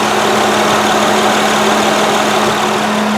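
Radiator cooling fans on a Honda Odyssey run on low beside the engine, giving a constant loud whirring drone with a steady hum underneath, unbroken and with no speech.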